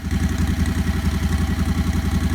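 A 670cc Predator engine in a Renault car runs through a short first muffler, giving a steady throbbing idle with an even pulsing rhythm, loud and close, with no voices.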